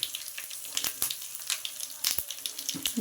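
Curry leaves and asafoetida sizzling in hot oil for tomato chutney, a steady crackling fry with sharp spits and pops, close and unaccompanied by talk.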